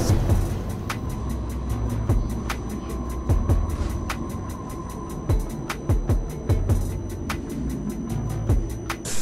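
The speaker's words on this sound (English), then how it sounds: "the bus driver must steer the bus through these narrow tunnels" An MBTA Silver Line trolleybus rolls through a narrow underground tunnel, with a steady rumbling drone, rattling and repeated sharp clicks and clunks from the vehicle as it moves, and no voices.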